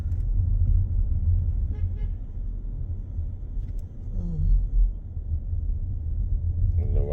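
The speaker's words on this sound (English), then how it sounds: "I don't know why you honking for." A car horn toots briefly at mid-distance on a town street during cleanup after Hurricane Milton in Lakeland, set over a steady rumble of a passing motor vehicle and road noise.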